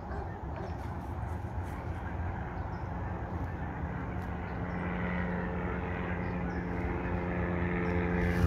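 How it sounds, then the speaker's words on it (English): Low engine drone of an airplane flying over mountains near a lake, steady and growing gradually louder as it passes, with faint background noise. "It's an airplane over the mountains there."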